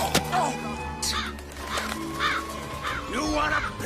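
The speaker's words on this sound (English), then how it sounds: "Stupid bird!" Crow cawing repeatedly in harsh bursts, loud and close, with someone shouting angrily at the bird in between.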